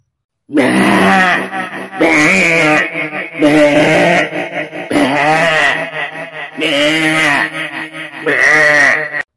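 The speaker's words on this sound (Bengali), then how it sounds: "ছাগলটি ভ্যা ভ্যা করে ডাকতে শুরু করলো" Loud, harsh bleats of a cartoon goat seized by the throat by a jackal, in a repeated series, each drawn out and strained, close by with short gaps between calls.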